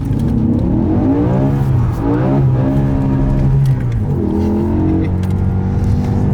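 A BMW M5 drives on the road, its engine pulling through rising and falling revs with clear gear changes, a loud, close, continuous tone under a faint whir and no talk.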